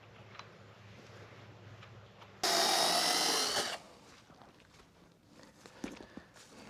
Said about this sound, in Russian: Поставлю родную шину с заточенной цепочкой. Посмотрим, может быть, будет лучше резать.